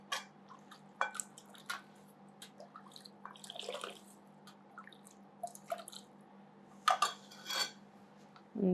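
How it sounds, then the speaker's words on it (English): A metal scraper drags white ganache along the edge of a double-barrel cake, giving soft intermittent scrapes and light taps with quiet pauses between, close up and faint. "And again, the top board edge should be clean, so I'm scraping more."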